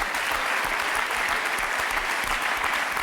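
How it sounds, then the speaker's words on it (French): Studio audience applauding on a French television game show, dense continuous clapping at full volume for the whole stretch, close and even with no pauses. "Point trop d'applaudissements"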